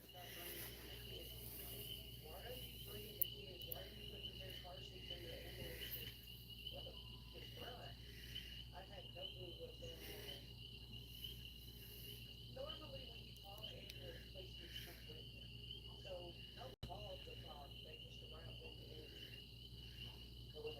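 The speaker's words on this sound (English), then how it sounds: "Oh, you can hear the tree frogs." Outdoors at night, a dense chorus of tree frogs trills steadily and fairly faintly in the background, layered over a constant high insect-like drone, with soft talk drifting underneath throughout.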